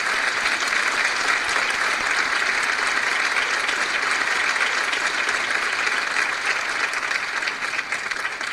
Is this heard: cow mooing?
no